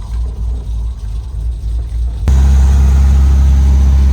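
Engine of a Volvo 240, recovered after 35 years abandoned in the woods, running while the car is driven: a low, steady rumble that suddenly grows louder and fuller partway through, then holds a constant drone.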